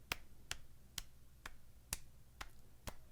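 Slow hand taps on a lap imitating rain, seven crisp separate pats spaced about half a second apart, close and quiet with no voices.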